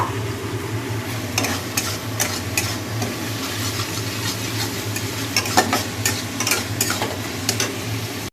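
Lentil fritters (dal bora) fry in oil with a continuous crackling sizzle, broken by repeated sharp clicks and scrapes of stirring, close and steady for the whole stretch, with no talking.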